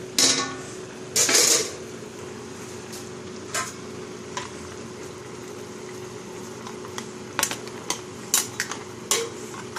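A lid opened on a pot of flat rice sheet noodles with mussels at a full rolling boil, a sharp close clatter of metal over a steady bubbling hiss, then scattered light clinks of pots and utensils.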